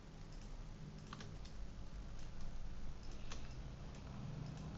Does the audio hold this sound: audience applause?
no